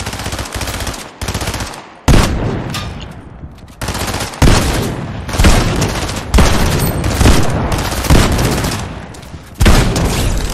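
Bursts of rapid automatic gunfire from Fortnite, loud and close, with short pauses between volleys and booming shots.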